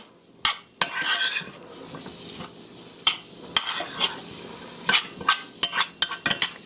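Flour is stirred into a turkey filling with a spoon, the utensil scraping and clinking against the dish in a series of close, sharp taps and rubs, some brief and some drawn out, with no talking.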